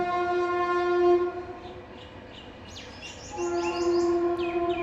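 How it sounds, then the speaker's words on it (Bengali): A train passes on a rail line near a house, sounding a loud sustained horn twice with a pause between, while chirping birds are heard in the gap. "এই যে ট্রেন আসছে যা আসা যাওয়া করছে"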